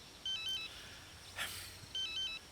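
A mobile phone ringtone plays a short electronic melodic phrase twice, faint and somewhat distant, with a brief noise burst between the repeats.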